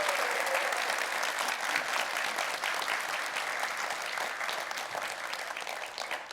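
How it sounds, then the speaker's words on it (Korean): Sustained, dense applause from a studio audience of citizens fills the whole stretch at a televised New Year special town-hall forum with Incheon's mayor, steady and loud with no pauses. "다시 한번 뜨거운 박수 부탁드립니다"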